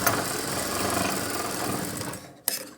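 A sewing machine stitches a blouse in a steady, continuous run that holds close and loud for over two seconds, then stops briefly before a short restart.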